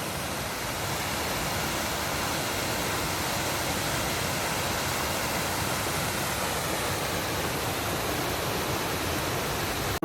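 A waterfall on the North Devon coast path roars as a steady, dense rush of falling water, even and unbroken throughout, with no voices.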